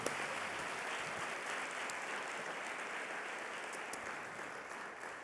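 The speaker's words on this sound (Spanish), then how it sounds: "Den un aplauso fuerte a Dios" A church congregation gives sustained applause during a worship service, heard as a steady, even wash of many hands clapping that holds at a moderate, somewhat distant level throughout, with no speech over it.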